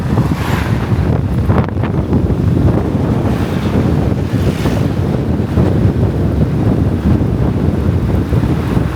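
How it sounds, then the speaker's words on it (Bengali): Strong wind buffeting the microphone during a motorbike ride on the Dhaka–Rajshahi highway, a continuous loud low rumble and roar with no break for the whole stretch. "খুব জোরে বাতাস প্রবাহ হচ্ছে"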